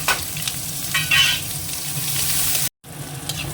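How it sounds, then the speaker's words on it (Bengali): Onion frying in a pan with oil, a steady soft sizzle with occasional stirring scrapes, heard close, with a brief dropout near the end before the sizzling resumes. "পেঁয়াজটা ভাজা হয়ে গেছে"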